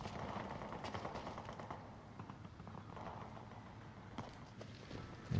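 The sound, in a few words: footsteps in a video game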